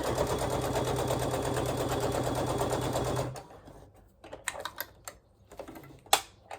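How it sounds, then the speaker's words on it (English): A sewing machine stitching around a fabric project bag runs in a rapid, steady mechanical rattle for about three seconds, then stops, followed by scattered handling clicks and taps up close. "We're just going to stitch that all the way around."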